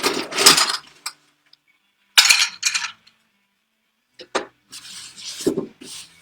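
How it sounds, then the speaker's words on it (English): Ice dropped into a glass and stirred for a cocktail, sharp clinks and rattling scrapes in short bursts separated by silent gaps, close and fairly loud. "It is a stirred cocktail, so we're going to put some ice in here, and then we'll stir it"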